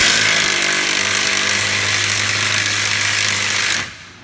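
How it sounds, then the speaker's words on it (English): A loud power tool rattles continuously on a wheel nut of a Ford Escape during front wheel bearing work, running steadily for almost four seconds before cutting off abruptly. "Now what I'm gonna do is pull off the nut on this side."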